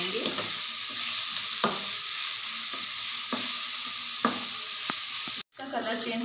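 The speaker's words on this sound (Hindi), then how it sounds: "प्याज को लगातार हिलाते हुए हल्का ब्राउन होने तक" Onions frying for an egg curry hiss steadily in the pan, with periodic scrapes and taps as they are stirred, heard up close with no talking and a brief cut near the end.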